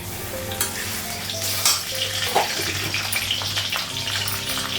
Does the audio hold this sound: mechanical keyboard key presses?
no